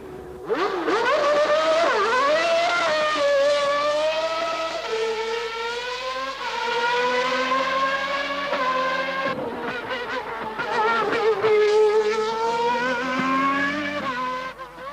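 A McLaren Formula One race car practices starts, its engine screaming loud and close with rising and falling revs, gear changes and a brief dip in the middle, sustained throughout with no talk.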